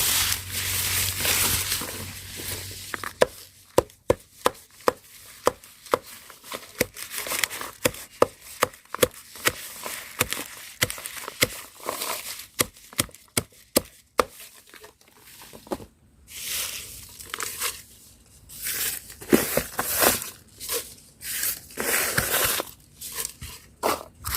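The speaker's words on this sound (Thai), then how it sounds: "เราก็สับใบยูคา" Eucalyptus leaves chopped on a board for a homemade insect repellent, a steady run of sharp, close knife chops with uneven rhythm and brief pauses, heard alone without talk.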